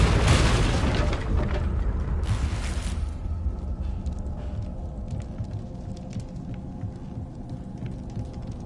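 A Confringo blasting spell detonates in the Hogwarts Legacy game, a loud booming burst with a rumbling roar that fades over several seconds into a lingering low rumble.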